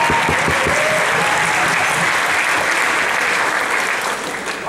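An audience applauds after a debate speech at a speech night event, a steady dense wash of clapping from a crowd that carries on throughout before easing slightly at the end.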